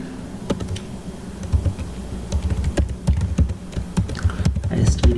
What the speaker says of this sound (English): I'm opening a notepad and I'm going to type